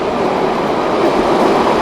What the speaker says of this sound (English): I got trains going by.